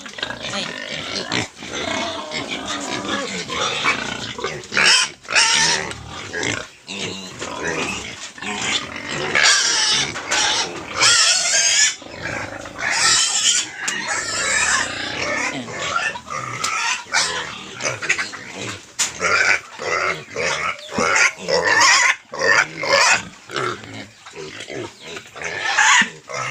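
Native pigs feed on Indian mangoes nearby, giving loud, close grunts, snorts and squeals in busy, uneven bursts throughout.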